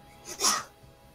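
One quick, muffled sneeze bursts out, brief and fairly soft, against a quiet background.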